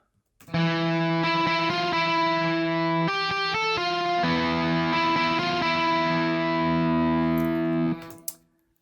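Heavily distorted electric guitar riff, in Phrygian mode, loud and sustained, with a chugging low note and shifting higher phrases, ending abruptly.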